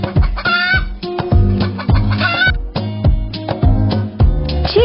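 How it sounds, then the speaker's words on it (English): A chicken clucks in a rapid, steady run of short, loud, close calls with a few drawn-out squawks mixed in, no voices. "The sound of chicken is"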